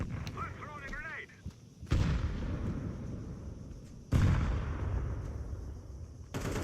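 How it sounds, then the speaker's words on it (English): Two heavy, booming grenade blasts go off in a competitive shooter match between Partizan and Eternal Fire, each a sudden loud burst that fades into a rumbling tail, with faint game noise and some player talk underneath. "I'm throwing a grenade."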